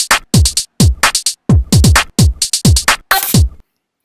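Programmed beat built from samples with edited playback speeds in Ocean 1.0, punchy repeating kicks and hits in a steady rhythm with a bright noisy burst near the end, loud and close, no talk.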